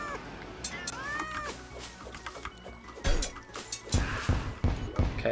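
Cartoonish cat meows from the Meow Throw ability in the video game Malice Mode ring out amid game effects, followed by sharp crashing and smashing impacts, with faint voices underneath.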